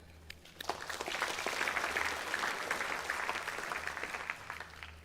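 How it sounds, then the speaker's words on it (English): Steady crowd applause at a festival sponsors' night, a dense patter of many hands clapping that starts abruptly and holds at an even level throughout. "We give them a round of applause."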